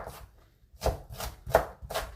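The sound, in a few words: knife julienning egg garnish on cutting board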